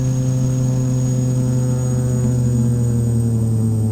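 Turboprop engine of a TBM 850 in a flight simulator game, running steadily after start at low idle with a constant loud drone and high whine, no pauses.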